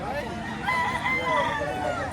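A rooster crows once at a home in Batangas, a drawn-out wavering call carried over the whole moment against a busy, noisy background.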